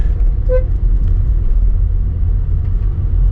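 A car grinding up a steep hill road in first gear, giving a steady loud low engine rumble with road noise all the way through and a short tonal blip early on.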